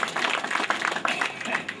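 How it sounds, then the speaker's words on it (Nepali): Audience at a volleyball event in Myagdi, Nepal, clapping to welcome a guest, a steady close burst of applause throughout. "कृपया तालीले स्वागत गर्नको लागि हार्दिक अनुरोध गर्छु"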